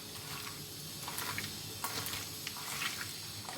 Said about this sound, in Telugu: నెయ్యి వేసి బాగా కలుపుకోవాలి